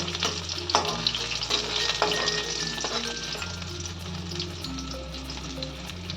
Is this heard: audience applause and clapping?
no